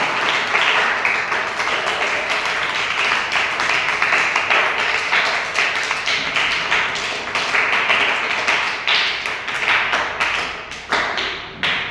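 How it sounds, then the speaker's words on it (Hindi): Audience applause for a correct answer in a Hindi TV-style quiz game, Kaun Banega Hazar Pati, played with a class 8 student: steady, dense clapping from a crowd, loud and sustained for about twelve seconds before tapering at the end. "जोरदार ताली हो जाए इनके लिए।"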